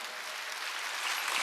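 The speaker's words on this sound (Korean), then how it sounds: "박수다." A Korean church congregation at a Wednesday service claps together in a steady, dense wash of applause that swells slightly toward the end, filling the sanctuary with no voices over it.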